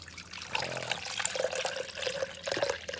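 Rice milk poured into a blender as a vegan smoothie base, a steady close liquid trickle and glug lasting a few seconds, with faint background noise and no talk.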